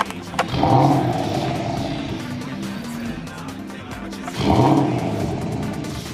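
A Porsche Panamera GTS engine starts and revs in a museum hall: two strong, separate throttle blips a few seconds apart, each swelling and fading back to a steady idle rumble.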